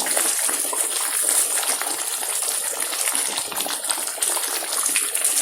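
Tandoori chicken masala spatters and sizzles hard in hot oil while frying, a loud, steady, dense crackle throughout with no pauses and no voices.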